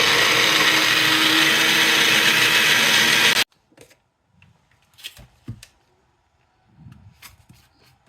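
A blender whirs loud and steady, pureeing spinach with an egg and salt, then cuts off abruptly, leaving faint clinks and handling sounds close by.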